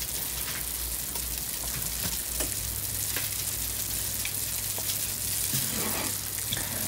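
A pot of sugar syrup for sekanjabin bubbles and hisses continuously at very high heat, a dense boiling sizzle with scattered pops and a low steady hum underneath.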